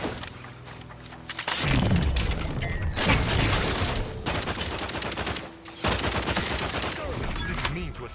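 Sustained gunfire fills a firefight in the sci-fi game The Outer Worlds 2. Loud automatic bursts and booming impacts keep going almost without a break, with a short lull midway, as a game voice speaks over the noise.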